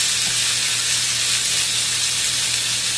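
Vegetables sauté in a tablespoon or two of olive oil in a pan, giving a steady, close, even sizzle and hiss that holds without a break and has no voices over it.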